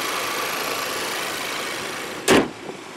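A Chevy Equinox's 1.5-liter Ecotec turbocharged engine, paired with a 6-speed automatic, idles with a steady, quiet hum, broken by one short, sharp mechanical thump near the end.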